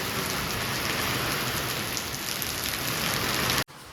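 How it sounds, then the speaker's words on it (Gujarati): Heavy rain driven by strong wind pours down in a village, a dense, loud, steady downpour that ends abruptly with no one talking. "જોરદાર વરસાદ આવે છો બાપા બહુ જ પવન પવન પવન"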